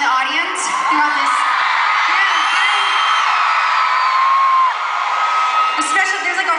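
An audience of fans in a crowd lets out loud, sustained high-pitched screams and whoops, a dense continuous wall of shrieking voices that swells and peaks throughout.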